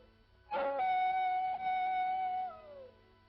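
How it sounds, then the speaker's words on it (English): Coyotes howling on the open Old West frontier: one long, steady wavering howl rises suddenly, holds for about two seconds, then slides downward and fades, fairly loud with nothing else around it. "Them coyotes give me the creeps. It sounds, well, it sounds just like a baby."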